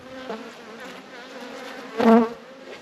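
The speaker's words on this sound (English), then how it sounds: "There's a lot of bees in here, but it's not bursting." Honey bees buzzing inside a full hive box, a steady low droning hum with a louder swell of close wingbeats near the end.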